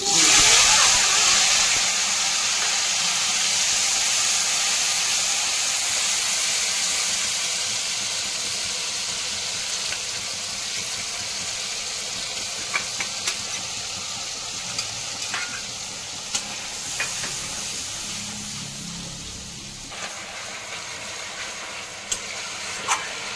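Whole cardamom, bay leaf, cumin, dry red chilli and cinnamon frying in hot oil, a steady loud sizzle and hiss that eases slightly over time, with faint scattered clicks of stirring and no voices.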